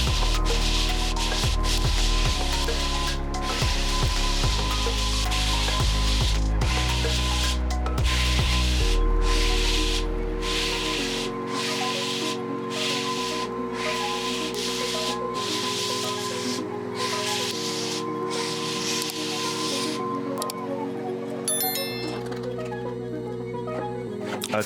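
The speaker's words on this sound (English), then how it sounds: "there's nothing wrong with the way he's sanding that floor" A floor sander works across a wooden floor in a steady, loud drone with rubbing grit texture, its pitch shifting partway through as the machine continues without pause.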